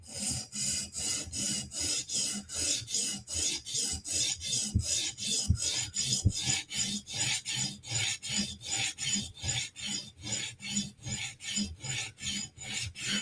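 An S35 steel knife blade is sharpened against an abrasive in steady, evenly spaced rasping strokes, about two per second, close and alone with no talk.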